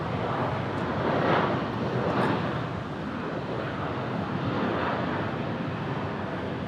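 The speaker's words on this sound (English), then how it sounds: "And Virgin 336 departing out to Melbourne" A Virgin Australia airliner departing Brisbane airport on runway 01 right produces a broad, steady jet roar that swells and eases slightly, distant and continuous, with some wind on the microphone.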